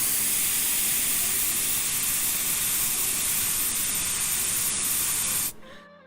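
An airbrush blows a steady, close, bright hiss of air for several seconds, then cuts off abruptly near the end, leaving a quieter background.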